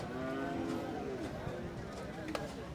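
Red Shahiwal-type bulls at a Jamalpur cattle market low out in long, drawn moos, one sustained call followed by fainter ones, mixed into the steady crowd chatter and voices of the busy market.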